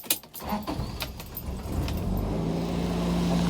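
A 1994 Toyota Mighty-X carbureted pickup engine cranks and starts, with keys rattling at first, then settles into a steady, smooth idle that holds close and even.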